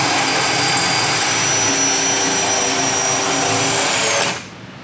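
A power drill bores out steel rivets on a Honda Civic Type R during a secondary radiator install, a loud, steady high-pitched whine that runs continuously for about four seconds and then cuts off abruptly.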